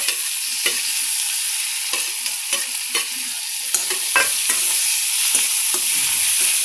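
Chopped tomatoes go into a pan of frying onions, bringing a steady close sizzle broken by repeated scraping and stirring clicks from a utensil.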